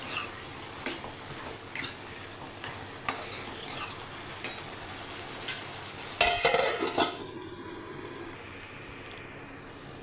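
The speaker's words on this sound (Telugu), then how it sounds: "ఇవన్నీ తిప్పేసుకుందాం, మళ్ళీ మూత పెట్టుకుందాం" Chana dal and potato curry being stirred in a pan with fresh ginger paste, a spoon scraping in steady strokes over a soft sizzle, with a louder clatter of metal near the end before the frying settles.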